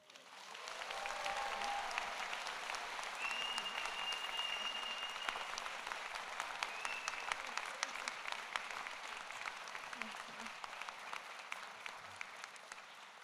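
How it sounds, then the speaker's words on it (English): Applause at the Rutgers New Jersey Medical School 2025 convocation, a long, steady roll of clapping from a large audience, faint and distant, with a few sharper claps and occasional whistles standing out. "Another round of applause."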